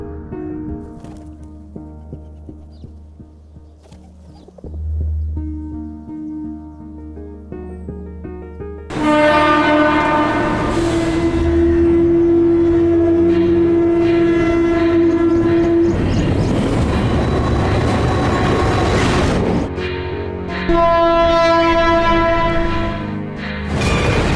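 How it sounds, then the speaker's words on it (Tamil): A train passes close by at Taramani railway station, starting with a low rumble, then a loud sustained horn blast over clattering wheels, with a second horn sounding near the end. "Railway station, Taramani."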